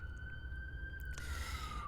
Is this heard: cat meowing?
no